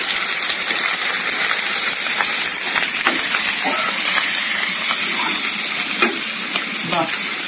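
Methi leaves fry with garlic and green chilli in a hot pan, making a loud, steady sizzle and hiss with occasional stirring scrapes throughout.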